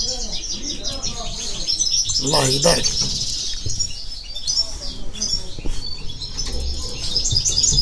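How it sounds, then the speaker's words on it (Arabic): Constantine goldfinches in breeding cages sing with bright, rapid twittering chirps that run steadily through the recording, close and fairly loud, while someone talks over them. "هذا هو طائر الحسون القسنطيني الأصيل"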